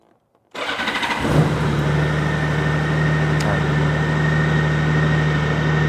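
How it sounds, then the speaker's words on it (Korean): A Honda Gold Wing 1800 touring motorcycle engine cranks after a moment of silence, catches and settles into a smooth, steady idle, loud and close. "시동 한번 걸어 보겠습니다."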